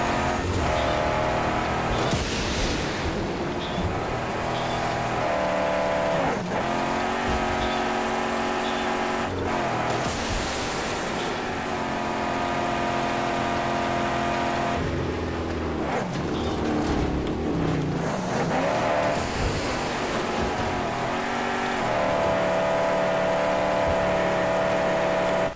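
A car engine in the Mad Max video game drones steadily for a long stretch, its revs rising and falling through gear shifts, loud and close with no talk over it.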